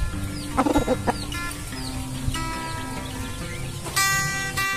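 Several broiler chickens cluck and squawk nearby, with short bursts of clucking and occasional higher calls over a steady farmyard background.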